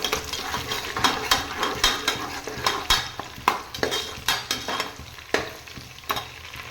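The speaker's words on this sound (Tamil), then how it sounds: "வெங்காயம் நல்லா பொன்னிறமாக வதங்கிட்டோம் வெங்காயம் வதங்கிருச்சு" Onions fry in a pan for vegetable biryani, a steady sizzle broken by rhythmic scraping strokes of a spoon stirring them, close and fairly loud with no talking.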